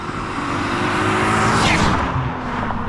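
A sports car engine revs hard and builds steadily toward about 5,500 RPM, loud and close, a continuous rising drone with a brief swell in the middle.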